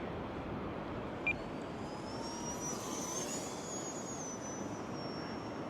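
A small E-flite Viper 30mm electric ducted-fan RC jet flies high over sand dunes, a steady distant whine that rises and sweeps past under constant wind noise, with one brief click partway through.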